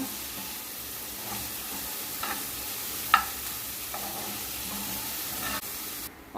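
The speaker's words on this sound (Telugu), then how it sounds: "ఇప్పుడు దాంట్లోనే ఆనియన్స్ వేసుకుని గోల్డెన్ కలర్ వచ్చే వరకు వేయించుకోవాలి" Chopped onions fried in a pan over low to medium flame for Andhra stuffed brinjal curry, with a continuous moderate sizzle and occasional scraping stirs, one sharper clack near the middle.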